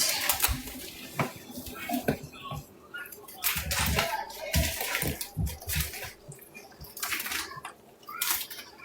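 Pool powder being mixed into water into soapy suds: repeated wet sloshing, splashing and swishing bursts with clinks of a container, in close irregular strokes, with a voice speaking at times.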